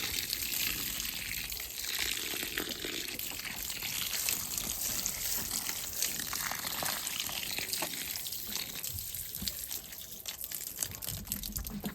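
Water pours steadily from a watering can mixed with tomato feed onto potted tomato plants in a garden, a continuous close splashing trickle that runs for the whole stretch without talk.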